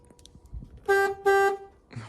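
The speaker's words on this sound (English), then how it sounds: "Horn kind of works." Two short, loud car horn honks in quick succession from a 1988 Chrysler New Yorker, with faint rustling before and a brief noise after.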